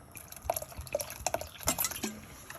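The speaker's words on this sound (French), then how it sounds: "avec juste un peu d'eau, je laisse mijoter" Fonio porridge with a little water simmers in a pot, giving soft irregular bubbling pops and drips, close and fairly quiet, with no voices.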